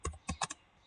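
Four quick clicks of computer keyboard keys, close and fairly quiet, in an irregular burst while typing in MS Word.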